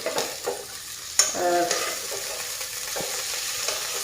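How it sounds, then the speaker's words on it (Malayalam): Fish frying in a pan with little oil is turned over, giving a sharp metallic spatula clink and several scraping strokes over a constant close sizzle. No voices are heard. "നമുക്ക് ഫിഷ് എല്ലാം ഒന്ന് നമ്മുടെ ചൂടൊന്ന് മറിച്ചിടാം."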